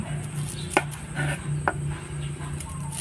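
A knife chops through an onion on a cutting board, with a few distinct sharp knocks spaced irregularly against a steady background hum, close and clear.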